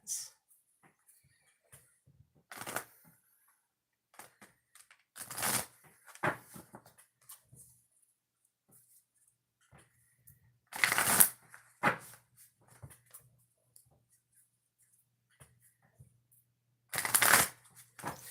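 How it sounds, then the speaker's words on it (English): A deck of cards being shuffled in several short riffling bursts, separated by quiet pauses, close and crisp with no talking. "I got to shuffle the deck and then we'll get started, okay?"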